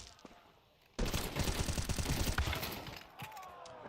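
Rapid gunfire bursts in a Counter-Strike esports match, including a Five-SeveN pistol, erupt loud and close after a quiet opening, a dense rattling fusillade lasting a couple of seconds before tapering off, with a faint tone trailing at the end.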